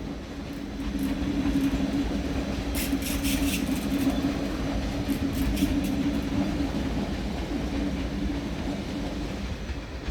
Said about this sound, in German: Und jetzt kommt noch ein ICE-T, der ICE Jena. Baureihe 411.